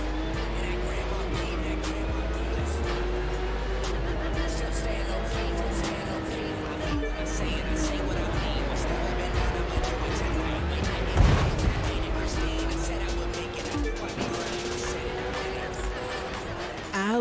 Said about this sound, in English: the Porsche I started out in, which you can see on screen at the moment, basically sounds like a sick lawnmower